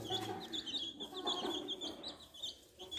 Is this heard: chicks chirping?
yes